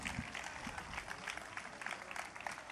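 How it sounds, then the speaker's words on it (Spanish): Faint, distant clapping from a crowd at an outdoor religious festival in Puerto de Santiago, applauding the Cáritas volunteers, a soft steady patter with a murmur of voices mixed in. "Fuerte, fuerte ese aplauso para ellos y felicitarles por esa gran labor."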